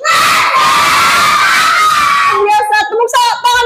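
A class of children shouts loudly together in unison, then breaks into rhythmic clapping-chant bursts with claps near the end.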